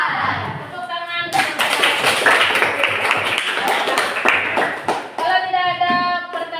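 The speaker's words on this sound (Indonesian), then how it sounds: "Tepuk tangan." A group of children claps their hands in a classroom, producing a dense, loud burst of clapping that lasts a few seconds, with voices heard before and after it.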